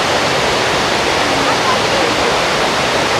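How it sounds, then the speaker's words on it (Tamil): Water pouring and foaming where it falls in a village stream channel in the Vavuniya forest, a steady, loud, continuous rushing roar that fills the whole clip without pause. "அந்த நுரையாக வந்து தண்ணி விழுகிற இடத்துல வந்து இவ்வளோதுக்கு நுரை வந்து கொண்டு இருக்கு"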